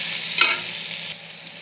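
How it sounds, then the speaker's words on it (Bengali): Cauliflower fries in a pan of hot oil, a bright steady sizzle with a brief louder burst of spluttering as the pieces are stirred, then a quieter hiss with a light clink. "দেখো প্রথমে ফুলকপি ভেজে নিচ্ছি।"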